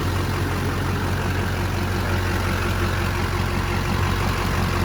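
An old 54-year-old ranch truck engine idling steadily, a low, even rumble with constant mechanical noise and no talk.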